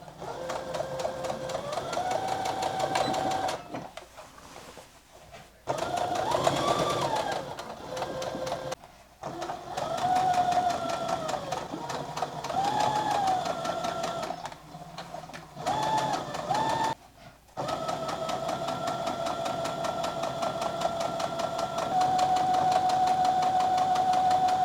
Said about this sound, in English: we're going to understitch and we're going to catch the seam allowance below the binding